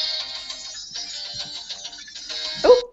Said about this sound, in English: Oh, someone's phone's ringing.